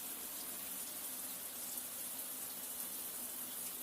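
Wine pours through a Coravin aerator shower head, a steady hissing, splashing stream of liquid that runs evenly throughout with no voices.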